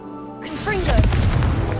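A Confringo spell explosion in Hogwarts Legacy bursts as a single loud boom with a rumbling tail after a brief magical whoosh, close and dominant.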